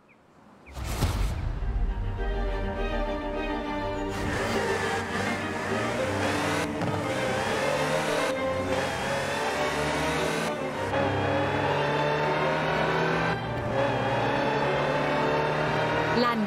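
A Land Rover Type 3 utility vehicle driving in the video game Forza Horizon 4. The engine starts abruptly and then drones steadily, with pitch rising and dropping through several gear shifts, while a voice talks over it.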